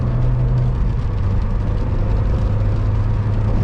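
A car engine drones steadily from inside a moving 2000 Renault Mégane 1.6 16V RXT, 110 horsepower, with low rumble and road noise, no talking.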